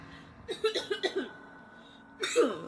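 A quick burst of several short coughs, followed after a pause by one more throaty cough, close and fairly quiet.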